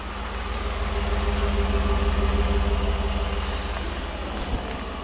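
A 2013 Ford F-150 pickup engine idles steadily with a low, rhythmic rumble, close by and constant for a few seconds.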